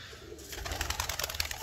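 Several pigeons gathering on a rooftop give soft, repeated coos and chirpy calls, fairly close and steady over an outdoor hiss, with no talking.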